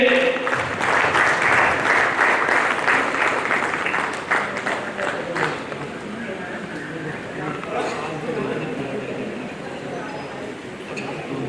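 A crowd at a Kanpur ceremony honouring descendants of freedom fighters breaks into loud, sustained applause that thins after about five seconds, with voices talking over the clapping throughout.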